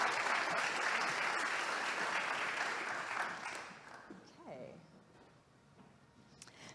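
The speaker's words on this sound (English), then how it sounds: "Applause again." Applause from an audience at a hackathon kick-off presentation, a dense, loud burst of clapping that fades to quieter scattered claps, with a voice speaking faintly near the end.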